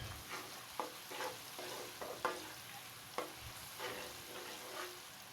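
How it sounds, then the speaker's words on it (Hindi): Potato and cauliflower are stirred and fried in a pan: a soft, continuous sizzle broken by repeated scraping stirs, heard close up and fairly quiet with no voices. "इसको अच्छी तरह से मिक्स कर लेते हैं और 2 से 3 मिनट इसको ना ज़रा भूनते हैं"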